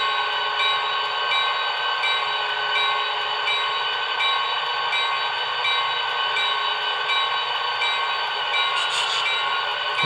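A TCS WOW Diesel sound decoder in a BLI PRR E7 model locomotive rings its bell, a steady, evenly spaced electronic clang repeating over a constant sustained diesel hum.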